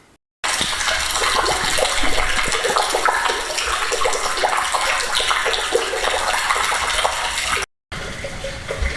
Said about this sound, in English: You've just seen the water going into the deposit that's coming off the roof.